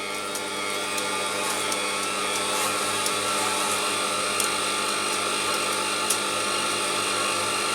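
A gas-less 130 flux core MIG welder feeds wire after the trigger is pressed, giving a steady motor hum and whine with faint periodic ticks, continuous and close.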